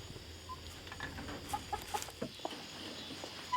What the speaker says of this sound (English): the chickens are well behaved as usual. They're in their coop and ready to go to bed.